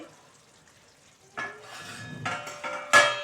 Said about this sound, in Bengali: আমি ঢাকনাটা তুলছি